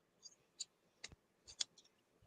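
Sharp Singer fabric scissors snip several times in quick, irregular succession, crisp close clicks against a quiet background.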